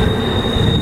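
A freight train rolls past at Tehachapi, a steady loud rumble of wagons with squealing wheels and a thin high tone held throughout, no talk.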